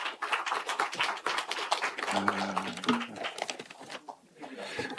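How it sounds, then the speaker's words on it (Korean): Applause breaks out in a parliamentary chamber for a newly elected vice speaker, a dense patter of many hands clapping steadily and fairly close, with voices and a brief tonal sound mixed in. "다시 한번 축하의 큰 박수 부탁드립니다."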